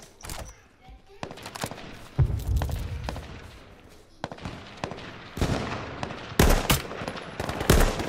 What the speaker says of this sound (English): There's bullets flying over my head, though.